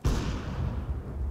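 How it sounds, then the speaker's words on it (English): A flashbang grenade goes off in Counter-Strike with a sharp, loud bang that rings out and decays over about a second, followed by a second abrupt impact at the end. "Deploying flashbang."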